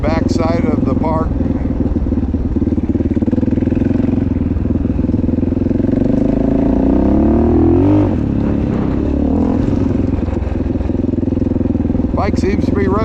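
A motorcycle engine runs throughout a ride, a loud, near rumble that rises and falls as it revs, with a voice talking over it.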